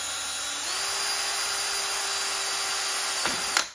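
A power drill revs up and holds a high, steady whine while boring through the hollow metal tube of a utility cart, ending with a brief scrape as the bit breaks through.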